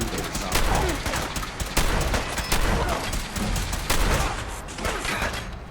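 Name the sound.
gunfire in the video game Fallout 4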